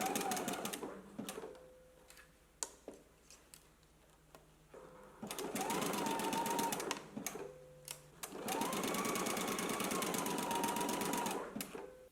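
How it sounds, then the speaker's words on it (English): Sewing machine stitching a knit neckband onto the neck edge of a top, running in two long sustained bursts with short stop-start pauses and light clicks between them, close and steady. "let's go ahead and sew our neckband onto the neck edge of the top"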